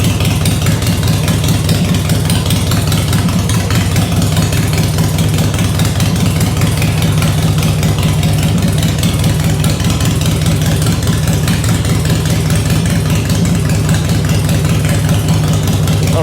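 A 2003 Harley-Davidson FXST motorcycle engine idles through loud aftermarket exhaust pipes, a steady, deep, rumbling drone that is close and constant with no talking.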